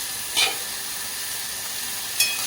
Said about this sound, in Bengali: সবজিটা একটু নাড়িয়ে দিচ্ছি।